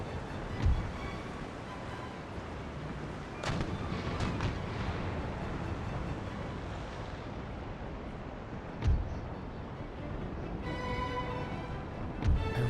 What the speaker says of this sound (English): And some more bouncing rockets.